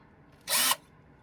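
A power drill whirs in one short burst of about a third of a second, boring a hole for a wall anchor, close and loud with no talk.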